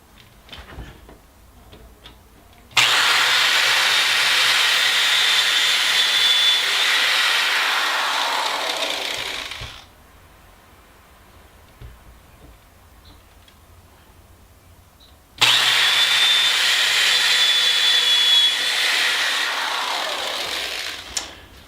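A drill driving screws into a wall-mounted rifle-length shelf, two long bursts of high whirring drilling several seconds each, separated by a quiet pause, with no talking.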